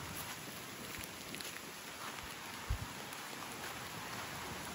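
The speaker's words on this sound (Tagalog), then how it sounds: "Ayan na, bumabaksak na yung ulan." Heavy rain falls with a dense, even hiss, a few louder drops or knocks standing out briefly; no voices.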